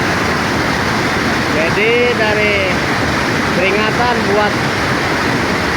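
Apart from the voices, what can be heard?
swollen Citerep river rushing after heavy rain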